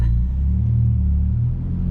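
A 2016 Ford Focus pulling off makes a loud, close low engine rumble that holds steady for a couple of seconds before easing slightly near the end, with no talking over it.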